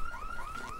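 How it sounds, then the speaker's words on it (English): A car alarm in the video game Dead Island sounds as a loud, piercing electronic tone that sweeps up and down in repeating cycles for the whole short stretch, with no talk. "That's an alarm."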